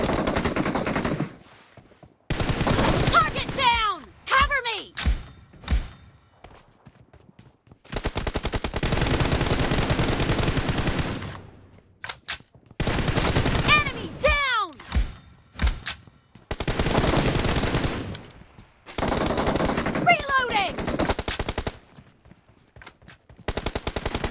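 Gunfire in the mobile battle royale PUBG Mobile, loud bursts of automatic fire in repeated clusters separated by short quiet gaps, with brief voice callouts mixed in.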